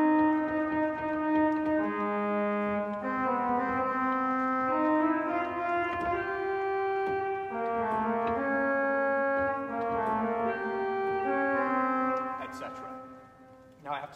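The trombone part of Stars and Stripes is played with the feet alone, a legato melodic line of sustained, overlapping notes that holds steady and clear, then fades at the close.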